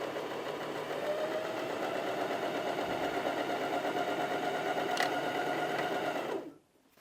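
Janome HD2200 sewing machine running a zigzag stitch, a steady close mechanical whir with rapid needle rhythm that holds for about six seconds and then stops.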